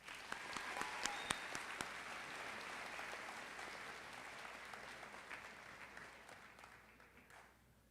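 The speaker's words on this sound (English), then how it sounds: "One more round of applause." Sustained applause from an audience at a high school senior awards ceremony, steady and moderately distant, with a few sharper claps near the start before it gradually tapers off.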